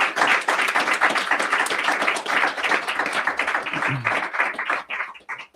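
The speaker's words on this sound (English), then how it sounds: "Let's have a round of applause in the room here for our wonderful panel" Audience clapping in a conference room for a panel at a forum on freedom and prosperity, dense and sustained, thinning out near the end.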